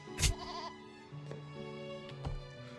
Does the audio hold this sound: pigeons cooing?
no